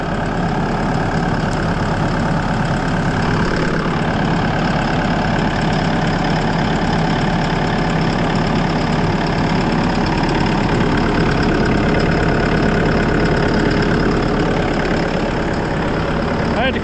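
Diesel engine of a Bobcat T770 skid steer, fitted with new injectors, running steadily near and loud at idle with a rough knocking chatter throughout.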